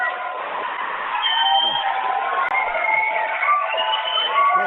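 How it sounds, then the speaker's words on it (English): A studio audience applauds and cheers on a sports talk show, a steady, dense wash of clapping and whoops that holds at moderate loudness and builds slightly partway through. "Give him a hand, guys. Give him a hand."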